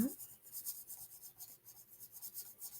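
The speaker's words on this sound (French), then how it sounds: "Et que là, je dessine tout." Pen or pencil drawing on paper, a faint, close, rhythmic scratching of quick repeated strokes throughout, quiet and alone.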